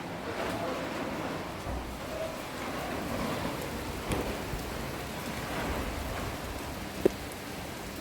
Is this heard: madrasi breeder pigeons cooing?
no